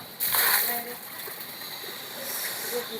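Dirty water thrown out, splashing in a burst near the start, then sloshing and dripping continue with a voice talking faintly over it.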